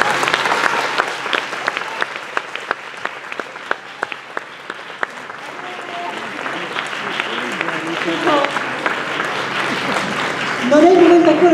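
Audience at the Premio Martoglio award ceremony in Belpasso bursts into sustained applause welcoming an actor onto the stage, a dense crowd of clapping hands that swells toward the end, with voices talking over it.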